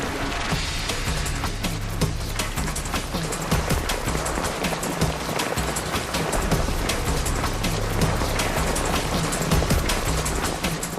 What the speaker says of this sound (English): I hated it out in the rain, and the sea was really bad, and my canoe kept going over.